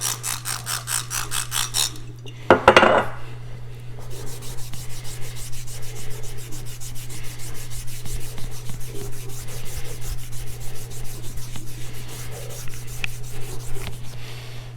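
A rust eraser rubs on an Arkansas natural sharpening stone: steady gritty rubbing and scraping, close and continuous, with a brief louder burst early on before settling into an even rasping rhythm.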